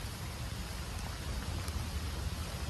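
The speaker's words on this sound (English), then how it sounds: "See how it didn't stop raining?" Steady rain falls outdoors around someone walking, a continuous close hiss of drops spread evenly across the clip with no voices.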